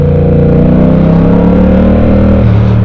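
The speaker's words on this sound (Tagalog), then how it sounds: "sobrang ingay nung muffler niya, yung Akrapovic" A 2022 Yamaha MT-07 motorcycle with an Akrapovic muffler revs close and very loud, its deep exhaust note holding steady and dense for the whole stretch, with no one talking.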